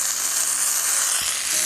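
Homemade butter heats in a hot pan outdoors for a deer heart glaze, giving a steady, close, bright sizzle for a brief moment.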